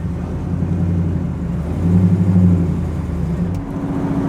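A steady low engine rumble of a 1968 Chevrolet El Camino SS driving, with a slight rise in revs midway, close and continuous.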